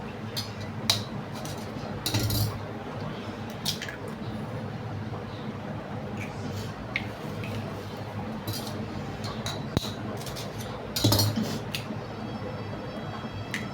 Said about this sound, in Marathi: इकडे 4ही अंडी मी फोडून घेतल्या आहेत.